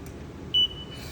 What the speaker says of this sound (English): As soon as I power it on, the machine is gonna beep